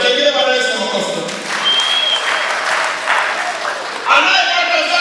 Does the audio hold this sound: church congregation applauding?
yes